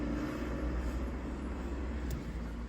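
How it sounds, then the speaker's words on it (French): Police and military vehicles rolling past in a street parade in Mayotte, a steady low rumble of engines and tyres at moderate distance with wind noise. "Il y a la police qui déambule. Ils font un défilé, troisième voiture."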